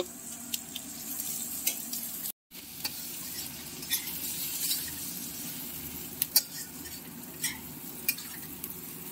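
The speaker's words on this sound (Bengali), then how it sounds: "গোটা রসুন গুলো এবার ভেজে নেব।" Whole garlic cloves fry in oil in a pan, giving a faint, steady sizzle with occasional soft pops and clicks. A brief moment of silence cuts in partway through.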